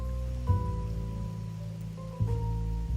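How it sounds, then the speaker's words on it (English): Steady rain falls in the video game Wuthering Waves, a continuous hiss under a low sustained tonal drone with a couple of soft thuds, alone without voices. "The rain's back."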